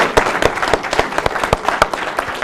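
An audience at a town hall panel applauds, with sharp, close claps running fast and dense for a few seconds and no voices over them.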